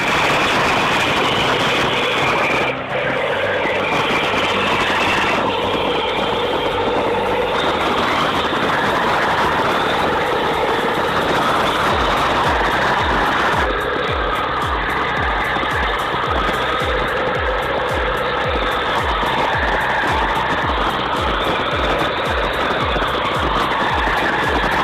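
A Kirovets K700 tractor drags an off-road vehicle through swamp mud, its engine droning loud and steady throughout, with a rhythmic mechanical pulsing that strengthens in the second half.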